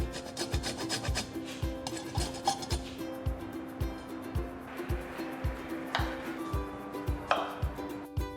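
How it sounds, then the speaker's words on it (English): Key limes are zested against a grater in a steady, quick rhythm of dry rasping strokes, close and fairly quiet, with a faint tonal hum running underneath and no voices. "In one bowl, zest 3 to 4 key limes."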